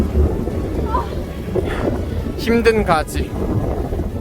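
Strong, typhoon-force wind buffets a road cycling ride along the Geumgang river bike path between Sejong and Buyeo, a steady low roaring rumble throughout, with people talking over it.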